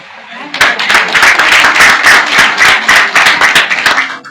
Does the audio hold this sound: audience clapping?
yes